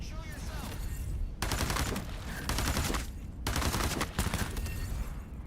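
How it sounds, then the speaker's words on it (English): Enemy gunfire in the video game Into The Radius 2, loud sustained volleys of rapid automatic shots broken by brief gaps between bursts. "These are the guys shooting at me."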